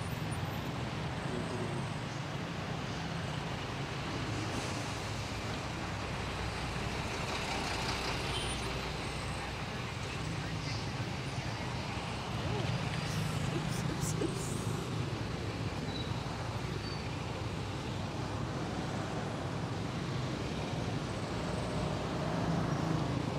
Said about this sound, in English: There's a bit of traffic, but don't worry